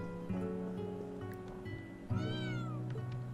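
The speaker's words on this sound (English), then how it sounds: "Jean the cat." Cat in the Trails of Cold Steel 3 video game meowing twice, a short call and then a longer rising and falling meow, clear and close over a quiet background hum.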